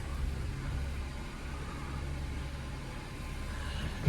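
Chevrolet Onix 1.0 LT 2022/2023 engine idling steadily after a morning cold start, a low even hum throughout with a small knock at the very end, no speech.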